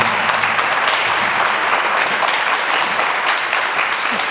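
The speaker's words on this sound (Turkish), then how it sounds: "Alkışlıyoruz Tolga ve Neslihan." Studio audience applauding on a Turkish matchmaking television show, a steady, dense burst of clapping that fills the whole stretch without pause, loud and close with no speech over it.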